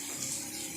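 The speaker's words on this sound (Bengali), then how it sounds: "কষে এই জারটা ধুয়ে একটু জল দিয়ে দিলাম" Water runs briefly, as when a jar is rinsed out and its water tipped into a pan of paneer masala; a short, steady splashing rush at moderate level with no voices.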